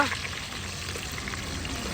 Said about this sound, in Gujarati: આપણે મરચાં તળવાનું ચાલુ કરી દીધું છે